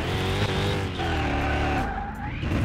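Car in Car Mechanic Simulator 2021 oversteering with its wheels spinning: a steady engine roar under continuous tire squeal and skidding, loud and close throughout.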